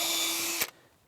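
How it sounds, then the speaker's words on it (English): A power drill pre-drills holes in clapboard siding that is a little harder than red cedar, running in a brief, steady whine that stops abruptly. "These are a little bit harder than red cedar, so you might want to pre-drill these."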